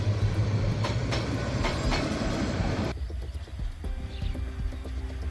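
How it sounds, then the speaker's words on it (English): An overloaded Drutojan Express passenger train rumbles past in Bangladesh, loud and close, with rhythmic clattering of wheels over rail joints that gives way to quieter rolling and scattered clicks. "Drutojan Express is seriously overloaded, people clinging inside and outside the carriage."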